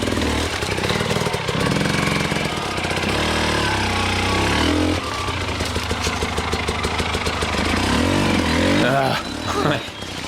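An enduro dirt bike engine lugs and revs unevenly up close, loud and rough, with throttle blips and clutch-slipping surges throughout.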